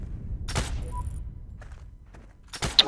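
Sniper and tank gunfire in the World War II shooter Heroes and Generals: two sharp, loud shots about two seconds apart, with faint clatter and distant thumps between them.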